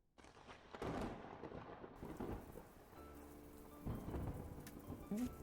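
Rain and thunder in the video game Strange Tales from Longchun: steady rainfall with deep thunder rumbles that swell and fade, heard alone without voices.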